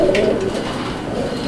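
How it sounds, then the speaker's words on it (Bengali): A black male beauty homer pigeon, full-voiced, lets out a short low coo up close at the start, followed by a quieter stretch of market background noise. "আপনারা দেখতে পাচ্ছেন ভরপুর ডাকের একটা নর, কালো রঙের বিউটি হোমার কবুতর"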